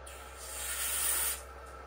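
Low-temperature activator spray hissing onto a 12.8V 100Ah LiFePO4 battery, a single close burst of about one second that swells and then cuts off.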